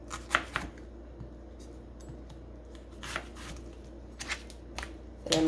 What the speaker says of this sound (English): I'm going to cut these up and do some in rounds